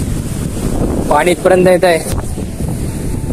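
Strong wind buffets the microphone at a seashore in Shrivardhan, a constant roaring rumble throughout, while a person speaks briefly over it.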